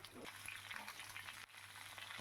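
Eggplant pieces, added after the potatoes on high heat, sizzle in a pan of oil with a steady, fairly faint bubbling hiss that holds throughout.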